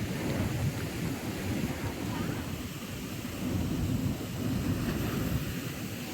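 Light drizzle falls in a beach town in Varkala, Kerala, a steady soft patter with a broad wash of wind-like noise holding an even level throughout, with no voices.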